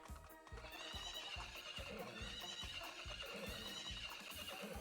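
Horses in a video game horse race gallop with steady, rapid hoofbeats while loud whinnies and neighs ring out over the top, a dense and continuous racing din.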